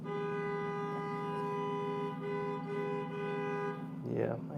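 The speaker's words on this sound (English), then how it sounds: "This is usually when I call it honking hour." Car horns honk outside across the street from a school as school buses gather at pickup time, a long sustained blare holding for nearly four seconds before cutting off, with a brief voice at the end.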